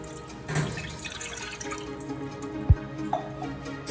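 Okra is rinsed with water in a kitchen, with faint trickling, a few scattered drips and one sharp tap, all close and quiet with no talking.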